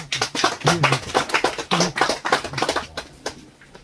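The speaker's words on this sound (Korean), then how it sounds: "큰 박수로 맞아주시기 바랍니다" A room of attendees at a library lecture welcomes the guest professor with brisk, dense clapping that swells and then thins toward the end, close and fairly loud, with no talk over it.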